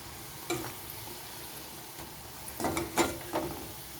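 Phuchka puris deep-fry in oil with a quiet background sizzle, punctuated by a few scraping, clinking strokes as the puffed shells are turned and lifted.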